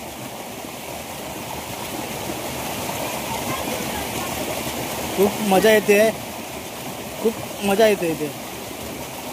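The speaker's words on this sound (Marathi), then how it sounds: "सुंदर असं पाणी पडतं." Water falling steadily in a stream during traditional tiny-fish catching, a constant rushing wash in the background while people talk and call out in two short bursts.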